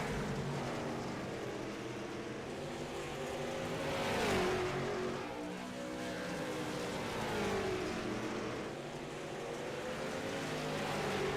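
Several race cars in the iRacing sim pull away at a race start, a dense layered engine drone with pitch sweeps as they accelerate and shift, steady and fairly loud throughout with no voices.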